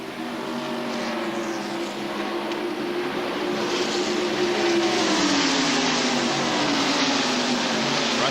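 NASCAR stock cars racing in a pack at the 1993 Winston 500, a loud continuous engine drone with pitch sliding as the field sweeps past, heard at a distance under the broadcast.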